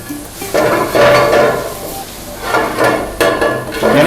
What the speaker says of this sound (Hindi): यानी कि इसको तड़का लगाया जा रहा है।